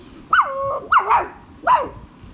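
A cartoon dog in a Shin-chan episode gives three sharp barks, close and loud, with short quiet gaps between them.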